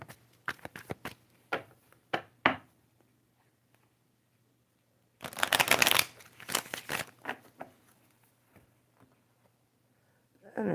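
Tarot cards are shuffled in short papery riffles and taps, a few quick bursts, a pause of near silence, then a denser flurry of shuffling, close and moderately quiet.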